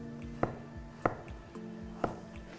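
A knife slices half an avocado on a cutting board in a home kitchen: three crisp, separate cuts against the board, close and clear over a quiet background.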